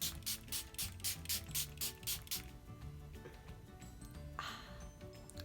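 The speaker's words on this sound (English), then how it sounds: "first I'm going to be taking my rose water spray." A rose water spray bottle gives about ten quick, evenly spaced misting bursts close by, followed by a quieter stretch with one more soft burst near the end.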